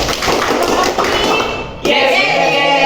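A classroom of students claps the rhythmic tepuk ekonomi pattern together, the quick, dense claps sounding close and loud amid children's chanting voices.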